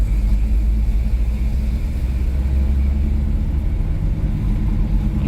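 A 1970 Plymouth Roadrunner on the road, its engine giving a steady, loud low rumble with road noise that holds evenly throughout and no talking.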